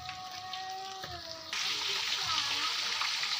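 Chopped onions for chicken curry frying in a pan, a steady close crackling sizzle that grows louder and denser partway through, with faint tonal hum early on.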